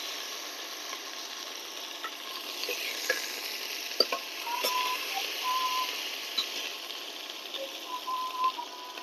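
Chopped medium onion with half a garlic clove frying and browning in a pan, a steady close sizzle with occasional stirring scrapes and soft pops throughout.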